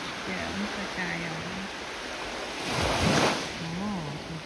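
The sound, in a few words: Baltic Sea waves breaking on the shore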